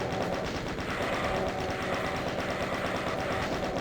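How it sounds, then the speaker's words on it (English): A chain gun in the classic shooter DOOM fires a rapid, steady stream of rounds, the rattling bursts running continuously at moderate volume with no speech over them. "Take out your chain gun."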